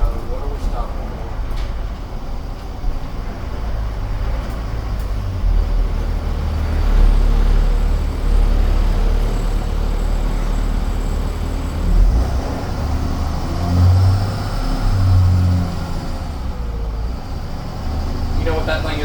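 A 2008 Thomas EF school bus drives along, its engine a steady low rumble with road noise throughout, swelling briefly at times, with a voice speaking faintly over it.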